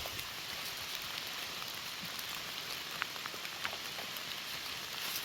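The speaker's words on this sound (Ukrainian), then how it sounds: "Дощ. Паде." Rain falls steadily on a mushroom-gathering hike, a soft even hiss with faint scattered drops pattering on surfaces, with no voices.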